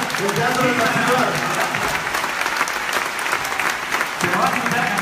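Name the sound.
theatre audience applause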